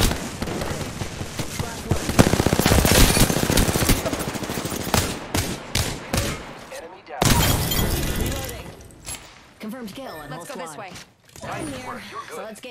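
Gunfire in a first-person shooter heard through a budget DBE GM150 gaming headset, with bursts of rapid shots and sharp cracks in the first half, then scattered shots and clatter, mixed with game sounds and talk.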